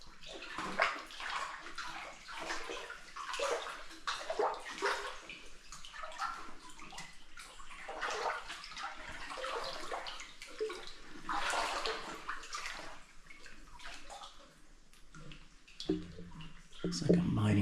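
Water drips and splashes in an old underground tunnel from 1905, irregular echoing plinks and trickles with voices talking intermittently nearby.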